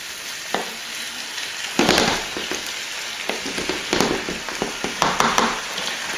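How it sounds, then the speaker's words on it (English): Fish and onions fry together in a pan for a curry. A steady sizzle runs throughout, broken by sharp pops and crackles that grow busier toward the end, heard alone with no talking. "And then just let the whole thing fry until all the fish is white."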